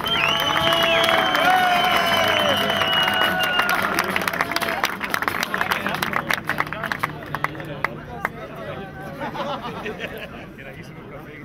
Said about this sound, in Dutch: En nog een applaus voor SCGV.